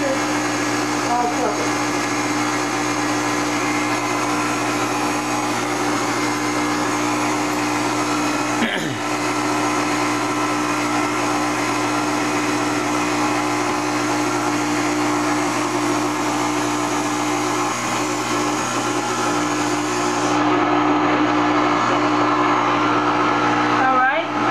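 A countertop blender whirring steadily on its stir setting while mixing Jell-O Oreo cupcake batter, a loud continuous motor drone close by that shifts slightly in pitch partway through, with no voices over it.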